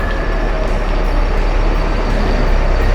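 A bus pulls out of the Pasar Sayur Cipulir bus agent on a morning departure, its engine a loud, continuous low rumble heard up close without a break.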